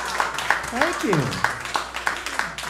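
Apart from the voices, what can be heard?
church congregation applause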